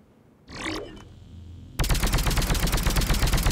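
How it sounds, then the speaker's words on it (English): The Indra sniper rifle in Mass Effect 3 fires at long-range targets: one sharp report with a short mechanical rattle, then a rapid, loud, evenly spaced burst of shots that continues to the end. "I am pushing down to counteract this weapon's recoil."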